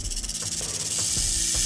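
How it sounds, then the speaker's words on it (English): A snake hisses in the video game 7 Days to Die, a close, steady airy hiss that swells louder partway through and carries on alone with no talk. "I think that snake is outside"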